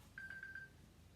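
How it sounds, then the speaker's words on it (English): A phone going off gives a faint series of four short, evenly spaced electronic tones, quiet and close, over a low background hum. "And my phone's going off too."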